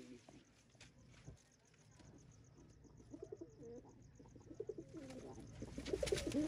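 Malwai desi fancy pigeons, a breeding pair of a red hen and a Chinese cock, coo softly and repeatedly in the background while someone talks over them, his voice growing louder toward the end.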